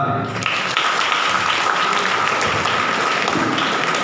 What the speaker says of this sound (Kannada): ಉಪನ್ಯಾಸಕರಿಗೆ ಚಪ್ಪಾಳೆ ಬರಲ್ವಾ?